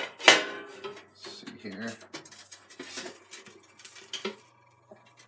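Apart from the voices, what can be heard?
flipping hash browns back into the frying pan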